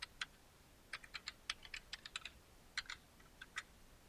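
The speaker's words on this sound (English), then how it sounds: "Now I will type my username" Someone types on a computer keyboard to enter a username and password, with quick, light key clicks in short irregular bursts. The sound is close and faint, and no one talks over it.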